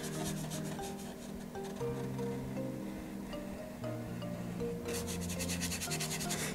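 Bristle brush dragging an oil wash across a painting surface, repeated close scratchy rubbing strokes in a steady rhythm, with light musical tones in the background.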